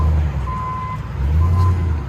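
A Ram Power Wagon 6.4L Hemi V8's reversing alarm beeps a few times at a steady pitch over a low, rumbling engine idle nearby.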